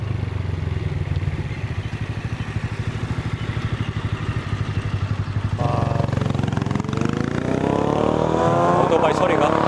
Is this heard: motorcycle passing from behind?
yes